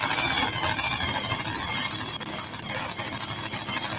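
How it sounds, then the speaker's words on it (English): A blower-equipped pulling truck's engine is cranked over and fired up, giving a loud, continuous mechanical roar with a high squeal on top, close and unbroken. "Takes a minute to get these blower trucks cranked up."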